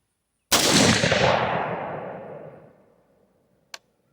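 A single loud rifle shot from a .22-250 AR10 rings out outdoors after a short silence, its blast decaying over about two and a half seconds, followed by a faint sharp click.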